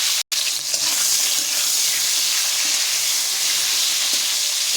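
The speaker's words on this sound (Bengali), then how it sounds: "শিমগুলিকে আমি বেশি ভাজবো না, খালি একটু তেলে দিলাম" Flat beans sizzle lightly in a little oil, a steady, dense hiss of frying that fills the whole stretch after a brief break near the start, close and even with no talk.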